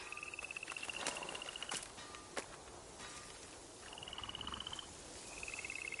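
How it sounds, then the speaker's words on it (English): Frogs croaking in the video game Ghost of Yotei, faint repeated trilling croaks in short bursts over a soft ambient background, no talking. "Oh, the frogs appear."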